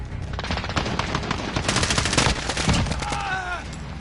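Rapid automatic gunfire from a PS4 first-person shooter, loud dense bursts of machine-gun shots filling the whole stretch, with a brief rising game tone near the end.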